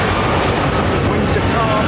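A jet airliner takes off from runway 27 right at London Heathrow in calm winds, a broad continuous engine roar filling the air with a brief chirp near the end.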